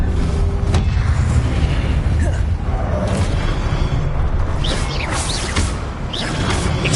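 Confringo explosive spells go off during a fight in the video game Hogwarts Legacy, with heavy booming blasts and crashing impacts in a loud, chaotic scene.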